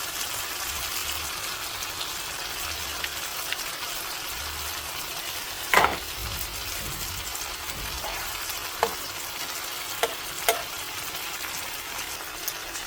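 Eggs frying with potato peels in a pan, a steady close sizzle running throughout, with a few short clinks and stirring knocks scattered over the hiss.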